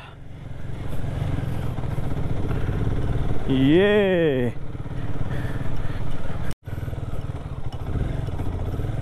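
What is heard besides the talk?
motorcycle engine powering over stream crossing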